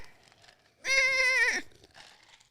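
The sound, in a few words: goat bleat sound effect in a jingle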